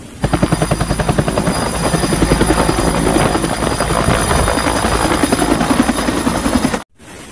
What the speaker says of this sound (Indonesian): Helikopter tentara, keren.